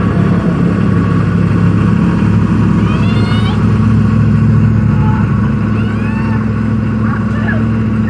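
A 1982 Buick LeSabre diesel engine with new glow plugs and injectors idles with a steady, loud, low rumble that runs the whole time, close by, with no talking.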